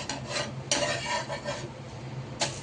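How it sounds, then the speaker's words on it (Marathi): A moong dal dosa roasts on a pan after flipping, with a soft sizzle under brief scraping strokes of a spatula, a few close rasping pushes spaced apart. "असं छान खरपूस भाजून द्यायचा."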